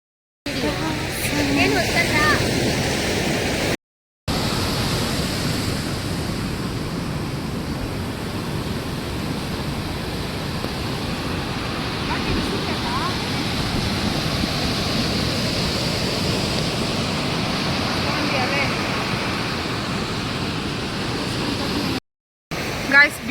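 Waves washing up on a beach in Coorg at dusk make a steady, broad rushing wash that is close and continuous for over twenty seconds, with two brief dropouts and a faint voice near the start.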